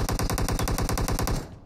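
Sustained automatic machine gun fire in the battle royale game BGMI during a tournament match, a rapid, even burst of loud shots lasting under two seconds before cutting off and fading.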